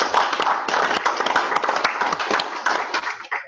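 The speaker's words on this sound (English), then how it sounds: "So everybody, please give Stan a warm round of applause." Scattered clapping from a small meeting group for a vice-presidential nominee, irregular individual claps close to the microphone, brief and somewhat thin before tapering off.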